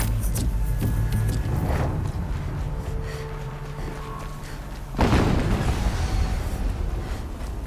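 Another explosion in the game Horizon Zero Dawn: a deep boom bursts out near the end over a dense rumbling, mechanical game background, following fainter thuds earlier, with no voices.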